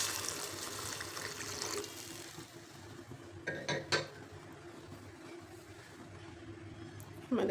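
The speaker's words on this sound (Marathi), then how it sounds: "पाणी" Water pours into a soup pot holding garlic and washed lentils, a steady rushing splash for about two seconds that then fades into quieter kitchen sounds, with a brief clatter near the end.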